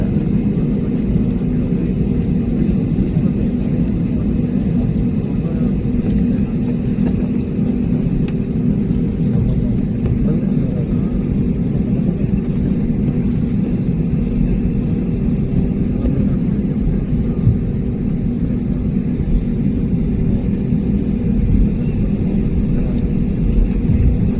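An airplane takes off with a loud, steady, deep engine roar and rumble that fills the whole stretch without pause.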